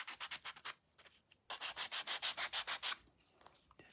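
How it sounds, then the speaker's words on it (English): Light sanding on wood: quick, rhythmic rasping strokes in two bursts, close and quiet, with a short pause between. "Just going to go around and lightly sand those edges."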